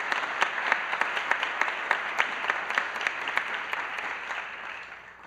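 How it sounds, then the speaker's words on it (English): A crowd at a university celebration applauds, with moderately loud, steady clapping and distinct individual claps standing out, gradually easing toward the end. "we should give a special and big round of applause to this guy right here, Fernando Naveda."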